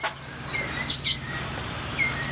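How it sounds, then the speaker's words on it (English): Baby sparrows chirp from a mud nest outdoors, a quick cluster of high, thin peeps near the middle, then a faint single chirp later, over steady low background noise. "we got a bunch of sparrows, little baby sparrows in a mud nest."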